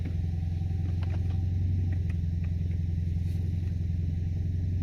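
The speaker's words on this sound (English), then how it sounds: "I do think it's idling better." A four-cylinder turbocharged Camaro engine idles on E85 fuel, a steady low rumble with a slightly uneven pulse and a few faint clicks, close by and with no talk over it.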